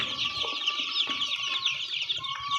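Kaveri breed chicks and chickens at a poultry farm in Maharashtra cluck and cheep continuously, a dense, fairly loud flock chatter with no voices.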